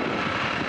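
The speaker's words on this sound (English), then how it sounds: "I've got a rough running engine." Rough-running engine of a Pioneer 300 light plane in flight, a steady, loud, continuous drone with no talk over it.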